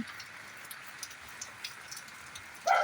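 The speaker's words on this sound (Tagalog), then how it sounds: "Biglang lumakas ang ulan pag out ko." Rain falls at night as a steady, soft hiss with scattered light drop ticks, fairly faint and unbroken, ending with a brief louder clatter at the very end.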